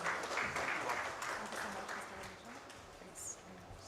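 Moderate applause from a conference audience as a speaker walks onstage at an advertising industry event, steady clapping mixed with voices and a brief high-pitched tone near the end.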